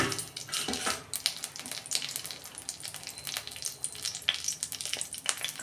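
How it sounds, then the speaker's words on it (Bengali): Whole spices and a bay leaf tempering in hot oil for a vegetarian Bengali dalia, a steady crackling sizzle with scattered sharp pops and light clinks of utensils against the pan, close and fairly loud throughout. "তেল দিচ্ছি ফোড়ন দিচ্ছি তেজপাতা"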